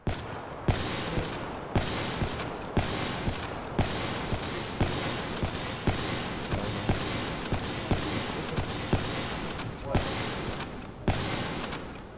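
Black Ops 3 gunfire rattles continuously in multiplayer gameplay. Dense automatic bursts are punctuated by regular sharp shot cracks across the whole stretch, loud and sustained.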